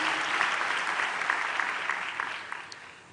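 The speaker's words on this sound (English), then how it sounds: "Please give yourselves a massive round of applause." Graduating Faculty of Humanities students at a university autumn graduation ceremony give themselves a round of applause, a dense, steady, even wash of many hands clapping together that fades slightly toward the end.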